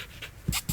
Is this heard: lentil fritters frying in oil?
no